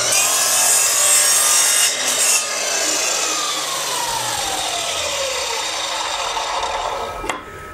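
A miter saw slices through wood to cut a 45-degree angle for a wine bottle holder. A loud, steady, close-up cutting roar gives way to a falling whine as the blade winds down, ending with a brief knock.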